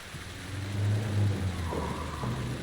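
Vehicle engine in the video game Alan Wake II, a steady mid-pitched car engine hum that swells and revs slightly around the middle, heard alone without talk.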